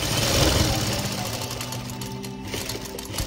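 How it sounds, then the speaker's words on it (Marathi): Sewing machine running steadily while stitching a round seam on two layers of fabric for a baby's kurta jacket, a continuous close mechanical whir with fast rhythmic needle chatter throughout. "शिलाई घालून घेणार आहोत."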